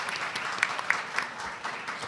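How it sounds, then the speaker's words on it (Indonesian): An audience applauds at a public debate between Yogyakarta mayoral and deputy mayoral candidates held at a hotel, a brief, moderate wash of clapping with a few sharper individual claps standing out. "Boleh kita beri tepuk tangan yang meriah terlebih dahulu."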